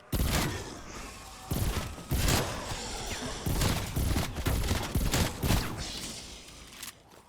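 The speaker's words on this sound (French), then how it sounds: "Je sais même pas pourquoi je tire en fait." Gunfire in Call of Duty: Cold War zombies mode on the Firebase Z map: loud bursts of shots and thudding impacts come in repeated volleys with short gaps, dense and close throughout, with no talk.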